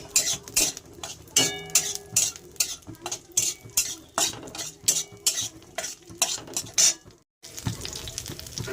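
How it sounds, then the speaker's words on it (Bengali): Green chillies fry in a pan while a utensil stirs and scrapes in a quick, regular rhythm over a soft sizzle, then pauses briefly before the frying resumes. "দেখুন লঙ্কাগুলো আমি একটু ভেজে নিচ্ছি"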